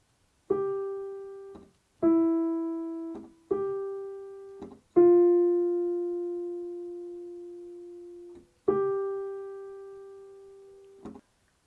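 Piano notes played slowly and alone, each tone sustained and decaying, one F held noticeably longer for three beats across a tie before the next notes sound.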